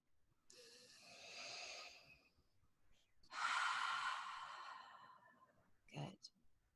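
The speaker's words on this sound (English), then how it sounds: "we're all going to take a deep breath together" A group takes a deep breath together, heard faintly: a long airy inhale, a pause, then a fuller sighing exhale, ending in a short sniff-like breath.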